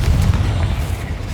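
Confringo fire-blast spell exploding in the Hogwarts Legacy video game, a dense low boom with a rumbling tail lasting through the short moment, loud and close with no voices.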